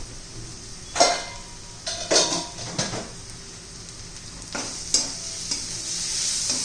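An onion and green chilli mixture seasoned with turmeric and red chilli powder is stirred in a hot pan, giving a string of close scraping, clattering strokes over a soft background sizzle, with no voices.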